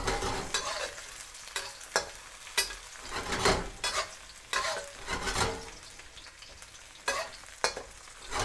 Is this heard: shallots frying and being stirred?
yes